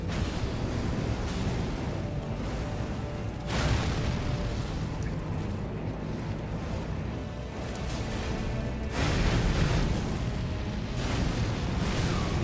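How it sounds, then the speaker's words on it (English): Explosions in Elden Ring: Shadow of the Erdtree at the Shadow Keep roar as a loud, broad rumble that fills the whole stretch, with heavier blasts swelling near the start and again toward the end. "Explosion."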